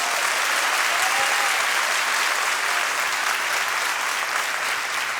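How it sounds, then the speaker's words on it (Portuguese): A church congregation gives a continuous round of applause to the Lord, a dense, even wall of clapping that holds steady throughout with no talk over it. "Dá uma salva de palmas ao Senhor"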